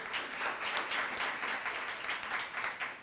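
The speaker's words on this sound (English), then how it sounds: "So give yourselves an applause for that." Audience applause from a crowd at a talk on loneliness and human connection, a steady wash of many hands clapping at moderate distance, unbroken for a few seconds with no voice over it.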